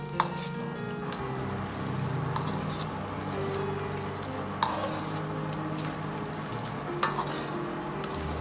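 Diced pork frying in oil in a wok, a steady sizzle with occasional sharp scrapes and clanks as a ladle pushes the pieces apart, close and fairly loud.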